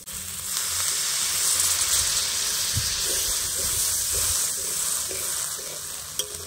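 Water poured into a pan of hot fried spice paste of tomato and raw spices, the oil already separated, for a cabbage and egg curry, producing a loud, steady sizzling hiss that fills the whole stretch, with faint stirring scrapes.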